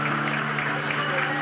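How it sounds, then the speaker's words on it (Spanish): A crowd at a live vallenato show applauds steadily, a dense even wash of clapping that holds at the same level throughout, with music or voices blending underneath. "Vamos a recibirla con un aplauso bien fuerte a Lorena"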